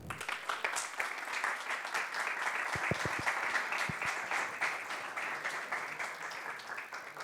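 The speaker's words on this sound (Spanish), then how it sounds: "Los recibamos con un fuerte aplauso" An audience at a book presentation in Tucumán, Argentina, welcomes the speakers with dense, continuous applause that stays strong for several seconds before tapering slightly, with a few sharper individual claps standing out.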